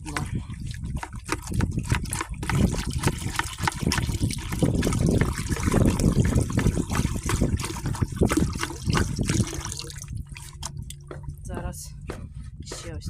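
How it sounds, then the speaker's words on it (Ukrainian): Copper sulfate dissolved in warm water is poured bit by bit into lime, giving a steady close trickling and splashing liquid sound over about thirteen seconds, with someone speaking over the pouring. "Мідний купорос я розвела тепленькою водичкою і зараз потрохи буду додавати у вапно"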